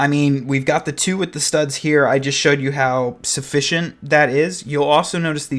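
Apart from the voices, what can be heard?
None of the usual background noises is heard.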